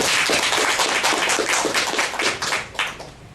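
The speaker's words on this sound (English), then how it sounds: "giving a big round of applause" Audience applause at a general assembly meeting: dense, sustained clapping from a crowd, loud and steady, thinning and fading toward the end.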